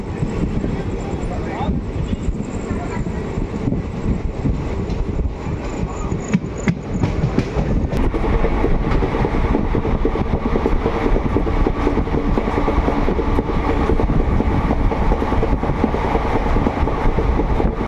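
A night train rumbles along the rails toward Puri with a loud, continuous roar from inside the carriage, steady throughout with faint rhythmic rattling and a voice beneath.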